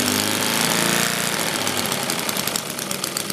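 A model opposed-twin internal combustion engine runs at low speed, giving a loud, steady, close mechanical chatter with a rapid knocking rhythm that carries on for the whole stretch.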